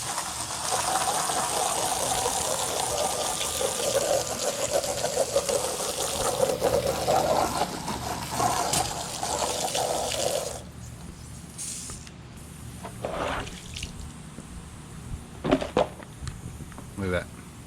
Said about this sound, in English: So just a little bit of water on it.